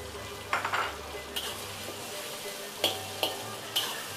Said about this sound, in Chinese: 炒香炒出颜色